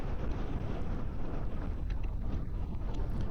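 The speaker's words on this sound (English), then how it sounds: "This wind is really bad." Strong gusting wind buffets the microphone during an e-bike ride toward downtown Albuquerque, producing a dense, loud low roar that stays steady throughout.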